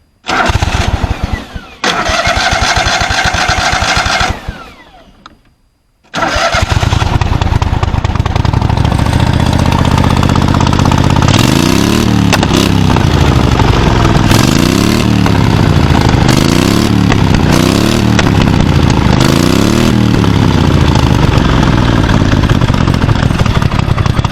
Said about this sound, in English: this is the mud mower. So let's hear what the new exhaust sounds like.